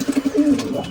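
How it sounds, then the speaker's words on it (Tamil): Pigeons in a loft cooing close by in a quick, repeated series of soft, throaty notes that run into a longer rolling coo. "உள்ளே வந்தாலே படப்படன்னு நல்லா பறந்து வெளியே ஓடுவாங்க"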